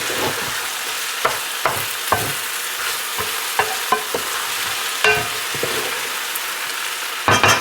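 Rice toasting in a hot pan with carrot gives a steady crackling sizzle, broken by repeated scraping clicks of a spoon or spatula stirring the grains, close and without talk.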